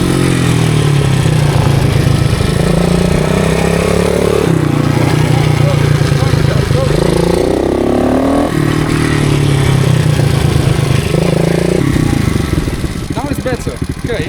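A motorcycle ridden by a beginner on a riding course with far too much throttle, its engine droning loud and close with pitch rising and falling as it revs, and voices talking over it.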